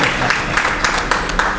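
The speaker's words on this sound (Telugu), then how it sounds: "ఒకసారి గట్టిగా చప్పట్లతో" Audience applause at a stage drama performance, a dense steady patter of many hands clapping at once with a few sharper peaks, loud and close, running without a break.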